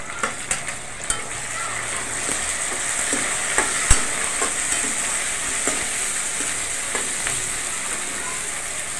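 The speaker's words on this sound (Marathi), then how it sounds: "टमाटरला आपण थोडंच भाजून द्यायचं आहे." Tomatoes frying with roasted onion in a pan, a loud, even sizzling hiss with occasional clinks and taps of stirring, one sharp knock partway through.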